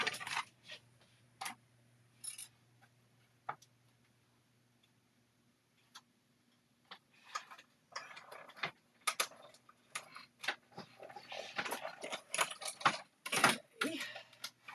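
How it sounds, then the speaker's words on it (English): A die cut machine feeds cardstock through with scattered ticking and clicking, at first sparse over a faint steady hum and then growing busier and denser toward the end, all close by. "I'm going to run it through my die cut machine like this"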